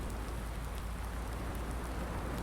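Steady, dense rain patters evenly and continuously across surfaces in the Farming Simulator 19 game world, with no other sounds on top.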